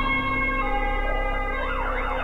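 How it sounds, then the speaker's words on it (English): A police siren wails in the horror video game Cry of Fear, loud and close with a sustained tone that begins sweeping up and down toward the end, heard alone without talk. "I hear there's a siren and policey."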